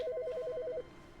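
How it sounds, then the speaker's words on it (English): A telephone rings in The Stanley Parable: Ultra Deluxe video game, a rapid warbling electronic trill of alternating tones that lasts under a second and then stops, fairly close and clear. "The phone's ringing."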